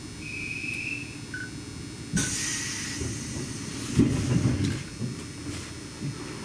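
Nagano Electric Railway limited express Yukemuri train starting off from a station, with a steady rumble, a loud burst of hissing air and rising mechanical noise as it begins to move, plus a brief tone early on.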